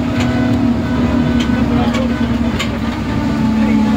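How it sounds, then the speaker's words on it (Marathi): Loud, steady engine drone of a vehicle being ridden along a road, a constant close rumble with a strong low hum throughout and a voice talking over it. "गाडी वाजते ना जोरात."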